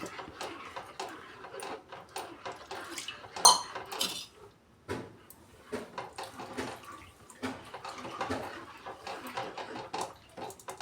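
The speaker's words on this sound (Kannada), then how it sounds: "ಅದು ಗಂಟ ಆಗ್ಲಾರ್ದಂಗೆ ತಿರುವಾಡಬೇಕು ಈ ಕೈ ಆಡ್ತಾ ಇರಬೇಕು" Metal spoon stirring a corn flour and water mixture in a cooking pot for corn soup, giving repeated light scraping clinks against the metal in a steady, busy rhythm at close range with no talk.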